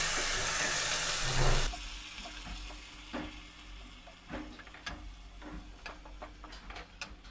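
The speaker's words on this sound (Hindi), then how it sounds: "थोड़ी देर बाद हम इसमें डालेंगे बनाए हुए प्याज का पेस्ट और इसे अच्छे से मिक्स कर लेंगे" Onion paste sizzles and fries in a pan for a dhaba-style black chickpea curry, starting with a loud burst of hissing, then settling into a low fry with scattered spoon scrapes and taps close by.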